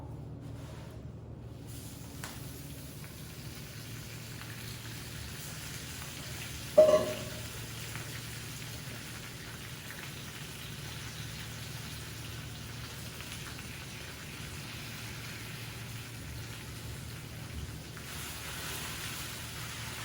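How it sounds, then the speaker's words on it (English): Spinach sautéing in a hot pan with a little oil, a soft, steady sizzle and crackle running throughout, with one brief clatter near the middle. "We're gonna get our spinach sauteed down. Nice hot pan, a little bit of oil."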